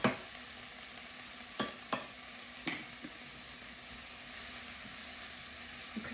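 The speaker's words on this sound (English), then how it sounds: "Stir this in with the onion" Minced garlic stirred into onions frying in a pan: a steady soft sizzle with a few quick clicks and scrapes of the spoon, close and fairly quiet.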